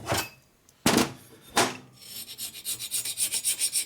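A heavy-duty scraper strips old gasket and carbon from a 1990s Harley-Davidson Sportster 1200 engine part. A few long, loud metal scrapes come first, then a quick rhythmic series of shorter rasping strokes, close up with no talking.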